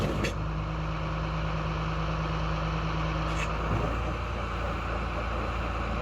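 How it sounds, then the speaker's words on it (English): A MeriCrusher machine runs steadily with its rotor spinning, giving a constant loud mechanical drone and a low hum that stops just before four seconds. "When I raise the machine, rotor starts rotating again."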